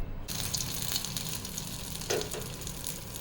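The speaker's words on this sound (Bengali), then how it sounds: "তেল গরম হয়েই গেছে, আমি তেলের মধ্যে এটাকে জাস্ট ছেড়ে দেব আজকে।" Soy kebab dropped into hot oil, frying with a steady loud sizzle and bubbling that fills the clip, with a brief surge of crackle partway through and no voices.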